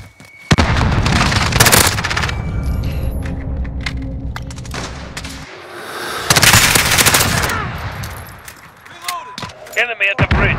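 A stun grenade blast and bursts of automatic gunfire in the Modern Warfare video game on the Euphrates Bridge map, loud and close, with heavy rattling volleys, a brief lull, then more shots while voices talk over the fighting.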